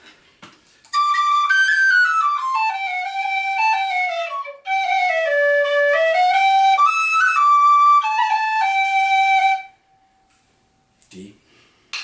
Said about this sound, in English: This is a regular D whistle.